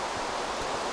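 Water flowing in a Minecraft-style survival game, a steady, even hiss of rushing liquid like a stream or small waterfall, continuous and fairly close with no breaks.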